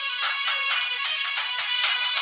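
A phone ringtone plays a steady, repeating electronic melody, pulsing in regular bursts at moderate volume with no talking over it.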